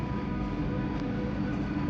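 An MRT train passes through a town in Germany, a steady low rumble with a faint tonal hum that holds evenly throughout at moderate distance, with no talking.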